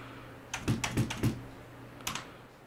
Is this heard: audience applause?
no